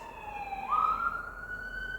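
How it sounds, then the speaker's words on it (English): A wailing emergency vehicle siren near a hospital and fire station rises sharply in pitch midway, steady and fairly close, with faint traffic rumble underneath and no voices. "sorry about the sirens."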